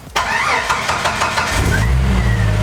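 A 1992 Jeep Wrangler YJ with the 4.0L engine cranks briefly, then fires and settles into a loud, steady idle close by.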